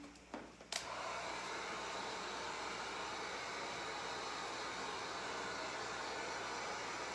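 Heat gun blowing on Woodubend molding, a steady close roar of hot air that starts after a couple of soft clicks and holds evenly to the end.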